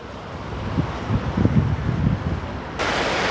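Large fountains in Poklonnaya Hill park, Moscow, give off a steady broadband rush of spray and splashing outdoors, mixed with wind buffeting the microphone.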